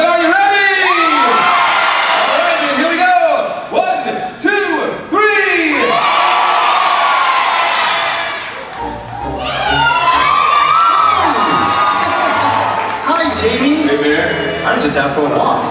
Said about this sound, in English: So everyone, on the count of three, yell, "Hey Bear."